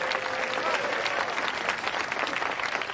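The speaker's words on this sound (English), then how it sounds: "a very big round of applause" A studio or event audience applauding a host, dense steady clapping at moderate level throughout a short stretch, with a faint tone in the background.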